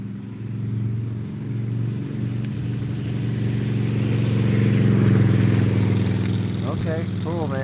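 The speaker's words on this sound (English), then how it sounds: "Speaking of a motorbike, right there." A motorbike passes along a street, its low engine rumble swelling to a peak and then easing off, with voices talking over it throughout.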